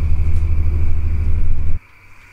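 A loud, steady low engine rumble of a bus in a scary video game that cuts out abruptly near the end, leaving a faint quiet hum.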